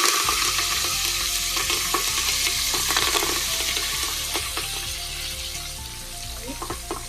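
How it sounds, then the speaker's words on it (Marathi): Curry leaves and asafoetida hit hot oil for a tempering in a home kitchen, giving a loud, steady sizzle and crackle that eases off gradually. A few faint clinks of utensils sound near the end. "कढीपत्ता"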